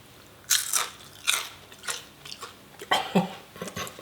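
Crunchy homemade French fries are bitten and chewed up close, giving a series of sharp, crisp crunches at an irregular rhythm with no talking.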